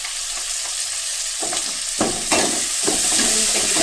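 Chilies and onions fry in oil for an okra curry, a loud close hiss of sizzling with bursts of scraping as the pan is stirred, no voices.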